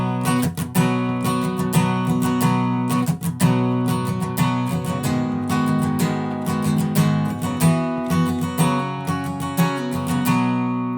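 Guitar plays the chord pattern of a song at full tempo, steady rhythmic strumming with crisp string attacks and ringing chords, close and unaccompanied by voices.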